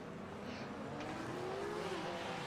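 GTE race cars in a racing video game roll at Laguna Seca behind the safety car before a rolling start, giving a faint, distant engine drone with a rising whine.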